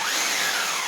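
An electric drilling machine switched on and running at full speed, giving a loud, steady whirring hum that stays even throughout, with no voices.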